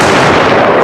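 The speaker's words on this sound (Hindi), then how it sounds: "गब्बर ने बंदूक तानी और गोली चलाई" A gunshot effect bursts out in a narrated Hindi story as the villain Gabbar fires his gun: one loud, harsh blast that fills the moment with dense noise.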